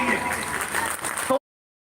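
Audience clapping at a children's foundation anniversary event fills the moment, a busy patter of many hands that cuts off abruptly, with a voice speaking over it.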